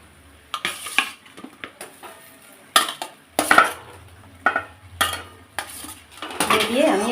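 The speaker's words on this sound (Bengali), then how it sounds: "খুলে নিয়ে এবারে চিংড়ি মাছগুলো দিয়ে দেব।" Prawns tipped into a pan and stirred for Bengali daab chingri, with sharp metal utensil clanks and scrapes against the pan in uneven bursts and a faint sizzle between them.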